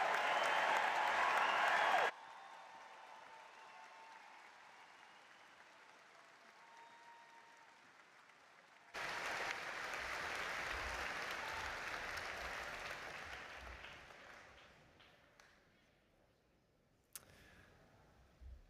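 Applause from a crowd for graduates at a university commencement ceremony: loud, dense clapping at first, then a quieter lull, then a second swell of applause that gradually thins out, ending with a few scattered claps.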